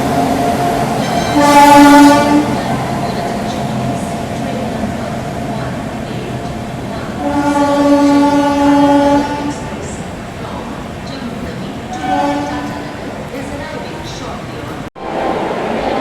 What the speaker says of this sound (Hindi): इधर अराइवल हो रहा है महाबोधि एक्सप्रेस का, जो कि गया से चलकर न्यू दिल्ली को जाती है।